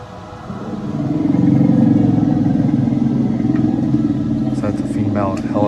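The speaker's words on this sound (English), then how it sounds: "A female elephant in heat rumbles after mating." An African female elephant in heat gives a deep, sustained rumble after mating, a low throbbing drone that swells and holds for several seconds, with faint higher calls near the end.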